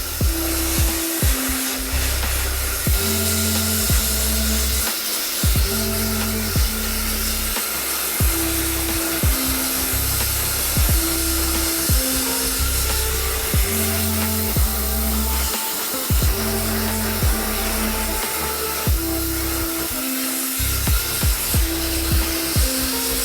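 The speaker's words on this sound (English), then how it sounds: "I blow dried it down slightly into the side" A hair dryer blows steadily close up while grey hair is styled, with a continuous whooshing drone and rhythmic brushing strokes running through it the whole time.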